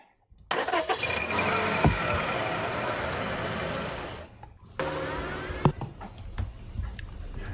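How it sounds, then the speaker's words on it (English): An Aston Martin car engine starts and settles into a steady, loud rumbling idle, then a brief pause before a second burst of revving, close and alone. "even some sound from an Austin Martin"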